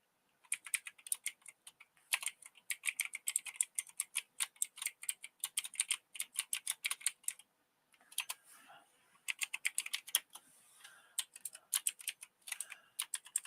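Rapid clicking keystrokes on a computer keyboard come in quick bursts with short pauses, close and fairly quiet, typed by someone with numb fingers in a quiet room.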